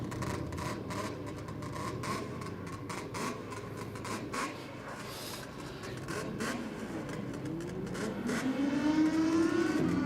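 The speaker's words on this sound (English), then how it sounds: "Definitely hear a two-stroke now." A two-stroke drag racing machine at Sydney Dragway drones in the distance beneath a busy outdoor wash of noise, then rises in pitch as it revs near the end.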